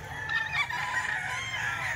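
A rooster crows among a seller's fighting cocks, one drawn-out call heard fairly close with a slight clucking edge, alone and without voices.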